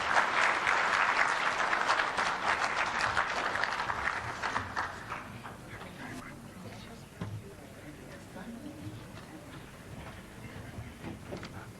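Attendees at a Uganda Law Society launch applaud a speaker after his address, loud, dense clapping for several seconds that then thins out into scattered claps and room murmur.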